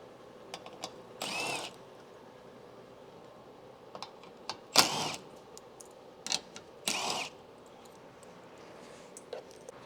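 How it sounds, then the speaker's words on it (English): A power tool works 10mm head bolts holding a metal bracket to the aluminum crossbar of a 4Runner bumper, giving several short separate whirring bursts with small clicks between them, close and clear. "We're going to remove these two 10mm head bolts on this side holding this metal bracket to the aluminum crossbar"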